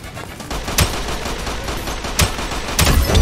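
Pistol gunshots in the Roblox video game, several sharp shots at irregular intervals over a busy, noisy game background, fairly loud with no talking.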